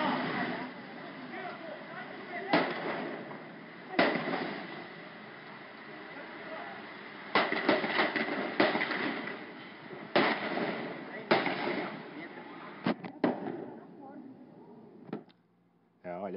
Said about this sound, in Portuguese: Muitos tiros são disparados.